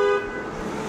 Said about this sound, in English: That was a massive horn too.